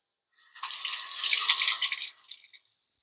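Kitchen tap water runs into a sink to rinse off vegetables while making chayote ramen, a steady splashing stream for about two seconds that tapers with a few final drips.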